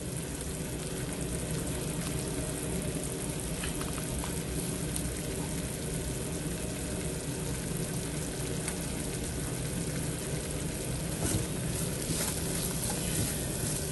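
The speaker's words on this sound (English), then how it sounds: "Now you're going to leave the mixture to simmer away and stir occasionally." A chicken croqueta mixture simmers in a pan with a steady, soft bubbling sizzle, even and unbroken throughout, faint and close with no voices.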